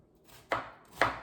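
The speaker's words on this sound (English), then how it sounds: "just slicing these thinly" A knife slices mushrooms thinly on a cutting board for a pot of mushroom stroganoff, two sharp, crisp chops about half a second apart, close and clear against a quiet kitchen.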